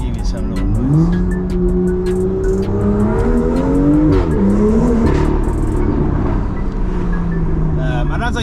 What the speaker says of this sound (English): it's good for you guys to get a gauge on like what this car sounds like